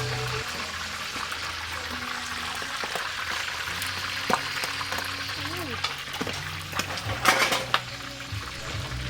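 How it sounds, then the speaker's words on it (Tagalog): Hot oil spatters and crackles steadily while a crispy pata pork leg fries in a pot, with a few sharper pops and clinks near the end and a voice talking over it. "Grabe ang panglagsik sa mantika guys, oh."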